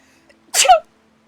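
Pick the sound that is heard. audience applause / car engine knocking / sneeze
sneeze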